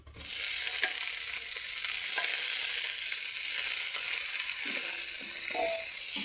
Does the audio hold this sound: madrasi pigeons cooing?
no